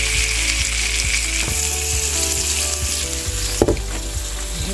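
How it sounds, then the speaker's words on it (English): Garlic sautéing in a pan just used for cooking steak: a loud, continuous sizzle and crackle up close with a low steady hum beneath and one sharp clatter near the end, no talking. "I figured I would probably saute the garlic in the pan"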